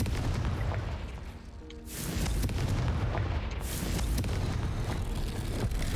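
Confringo explosive spell cast in the Hogwarts Legacy video game, a loud, dense rumbling blast that swells after a brief dip and keeps roaring with crackling bursts, no talk.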